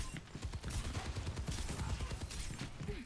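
Rapid, continuous gunfire rattles in a video game, a dense stream of quick shots heard fairly faint throughout.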